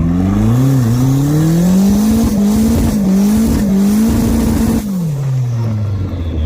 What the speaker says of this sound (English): Solid burnout. That zr1 is a unit.